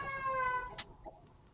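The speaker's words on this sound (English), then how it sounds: "That's a cat." A cat carrying a toy lets out one long, drawn-out meow, followed by a brief chirp, moderately loud and alone.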